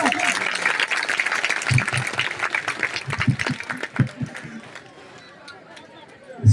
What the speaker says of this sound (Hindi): जोरदार ताली बजाइए साहब, जब तक वो यहाँ पे आते जाए ताली बजती रहना चाहिए साहब